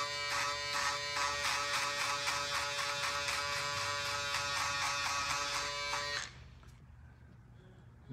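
Finale electric shaver buzzing steadily across stubble while finishing a mullet haircut, a close, strong vibrating drone with rapid pulsing texture for about six seconds before switching off, leaving quiet.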